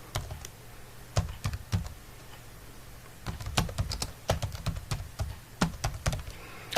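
Keys clatter on a computer keyboard as 'Attendance Register' is typed into an Excel sheet, in irregular bursts of close, crisp clicks with short pauses between them.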